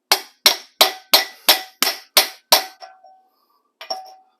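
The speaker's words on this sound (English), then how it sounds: "Big giant socket, big giant hammer," A big hammer strikes a big socket to tap a frozen part into a GM Squarebody truck's rear end, ringing metallic blows at an even, quick rhythm, eight in a row, then a pause and one last hit, close and loud.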